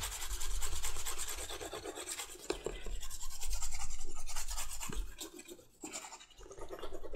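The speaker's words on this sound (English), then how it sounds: "And we're just basically polishing and burnishing that edge down to get it nice and smooth." A slicker burnishes the edge of a leather knife sheath coated with tragacanth, giving steady close rubbing and rasping strokes with brief pauses, loud and continuous without talk.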